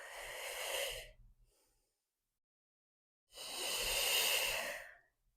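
Two long, audible breaths during a prenatal home workout: one exhale that trails off, then after a pause a second, fuller breath, close and clear with no talk.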